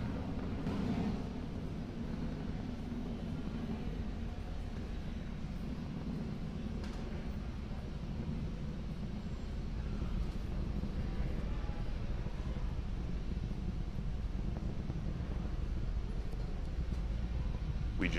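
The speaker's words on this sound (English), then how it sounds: "That Falcon 9 rocket is now throttling back up to full speed as it ascends through the atmosphere." A SpaceX Falcon 9 rocket climbing after max Q on the PAZ satellite launch gives a distant, low, continuous rumble that stays fairly faint and even throughout.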